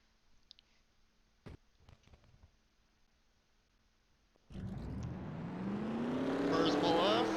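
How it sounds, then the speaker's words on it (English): Race car engines in a sim racing game surge to life and pull away at Bristol in a 1970-era league race, a quiet opening with faint clicks giving way to a loud, rising engine roar that builds through the final seconds. "Race car pulls off."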